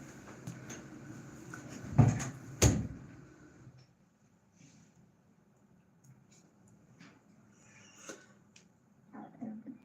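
A door clunks with two sharp knocks near the start, followed by faint rustles and small bumps as someone slowly moves out through it.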